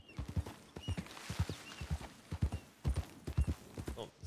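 Horse hooves in the video game Red Dead Redemption clip-clop in a steady, fast rhythm, close and clear, continuing for several seconds with no voices.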